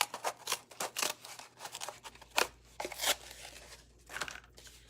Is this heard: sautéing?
no